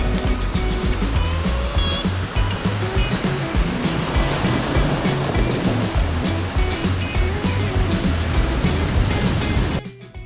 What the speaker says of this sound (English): That means we've got a bit of a water crossing coming up.